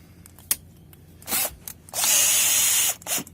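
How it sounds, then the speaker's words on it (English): A power drill bores a pilot hole for a Flow Rite remote drain plug in several bursts: two short whirs, then a longer sustained run and a final brief spin, close by, with clicks and handling noises between. "pilot drilled that hole just perfect there"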